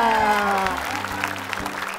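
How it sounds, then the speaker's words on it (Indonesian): Studio audience applause for two guest stars on a television game show, continuous clapping under music with sustained tones, moderately loud and fading slightly. "Tepuk tangan untuk Fairly dan Mila"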